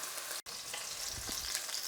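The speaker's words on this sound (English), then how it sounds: "you want it to sizzle the moment it hits the pan" Meatballs sizzle steadily in a hot pan, a constant bright crackling hiss with a couple of soft bumps, quiet and close.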